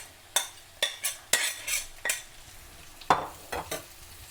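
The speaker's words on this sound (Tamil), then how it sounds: "இப்போ நாங்கள் வெங்காயம் போடுவோம்." Onions frying in a pan for Sri Lankan curry buns, a low sizzle punctuated by roughly ten sharp scraping and clinking strokes of a spoon against the pan.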